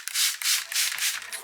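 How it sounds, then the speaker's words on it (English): A wooden shovel handle is wet-sanded by hand with a fine sanding sponge in about five steady back-and-forth strokes. The rasping is close and rhythmic, with no talking. "we're just going to wet sand this by just taking a little bit of water"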